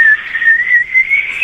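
A voice imitates a single whistle heard out in the woods at night, a clear sustained tone that wavers and slowly rises in pitch over about a second and a half.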